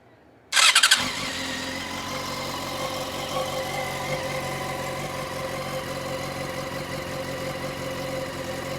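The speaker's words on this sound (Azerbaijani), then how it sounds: "O möhtəşəm 4 silindir səsi" A Yamaha FZ6N four-cylinder motorcycle cranks and fires up with a sharp burst, then settles into a steady, close, even idle that hums on alone.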